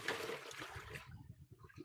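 Liquid is poured into a pan while homemade bagels are being made, a short watery rush and trickle that cuts off after about a second and leaves faint low rumbling behind it.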